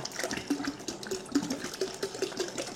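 Cold water is poured into a fermenting vessel to top it up to 23 litres. The splashing and gurgling fill is uneven, with bubbly bursts close by and no speech.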